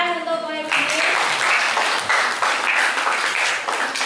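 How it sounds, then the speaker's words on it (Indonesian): Classroom applause from pupils breaks out after a short stretch of speech, a dense, steady patter of many hands clapping at close range that carries on to the end. "tepuk tangan untuk pemimpin"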